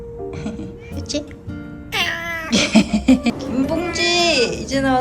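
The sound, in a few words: cats meowing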